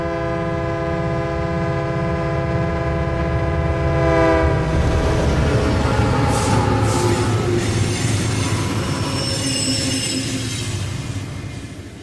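A train approaches with a loud, sustained multi-tone horn blast lasting several seconds, then the rumble and clatter of wheels on track takes over as it passes close by, steady and loud throughout.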